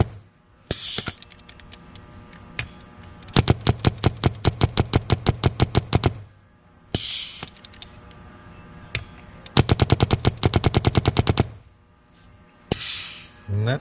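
A Planet Eclipse Etha 2 paintball marker with a leaking solenoid fires in rapid bursts of sharp, evenly spaced pops. Loud hissing rushes of gas sit between the volleys, and the whole sequence repeats several times up close.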